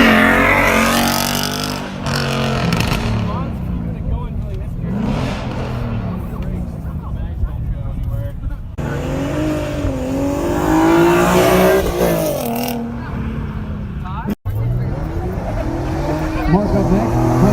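Cars roll past the fence line revving loudly for a rolling exhaust competition at a car show, engines swelling and fading through several passes, with some talk underneath.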